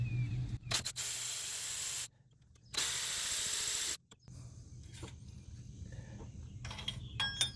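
Hand wrench loosening alternator bolts on a 1999 GMC Sierra, two bursts of rapid ratcheting clicks, close and loud over a low steady hum, followed by quieter scattered tool clinks.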